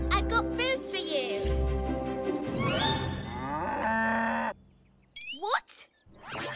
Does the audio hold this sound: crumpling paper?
no